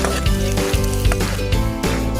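Ginger and then garlic dropped into hot oil, giving a steady, close, loud sizzle throughout with occasional stirring and squishing sounds.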